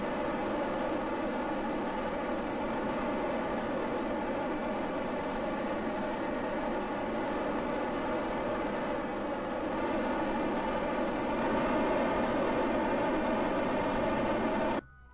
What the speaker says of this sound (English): I don't know why the small engines are so goddamn loud